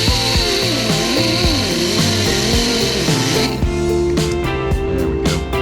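A boat propeller is sanded with a coarse abrasive pad on a power tool, a loud continuous whining grind that wavers in pitch as the pad works the metal, then steadies into a harsher rasp.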